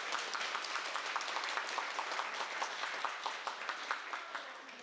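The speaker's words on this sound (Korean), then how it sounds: "표선성당 교우분들을 위해서 환영의 박수." A church congregation gives steady applause of welcome, many hands clapping in a dense patter that fades slightly toward the end.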